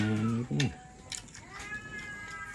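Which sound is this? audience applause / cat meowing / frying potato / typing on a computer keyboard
cat meowing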